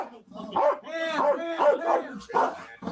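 A police dog barks and yelps in repeated bursts during a tense arrest, the barks loud and close with people's voices mixed in around them.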